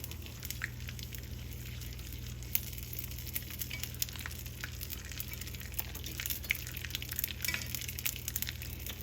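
Flour stirred in a hot pan for Southern smothered chicken gravy, a soft, steady sizzle and crackle running close and unbroken, with faint scraping stirs and a low hum beneath.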